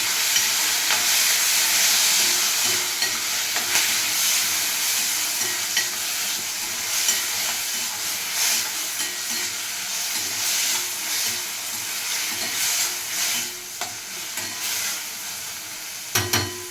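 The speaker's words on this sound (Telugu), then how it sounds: "ఆనపకాయ ముక్కలు వేసుకున్నామండి." Bottle gourd pieces stir-fry in a pan of curry leaf and green chilli tempering, producing a steady close sizzle with intermittent scraping stirs and occasional louder crackles throughout.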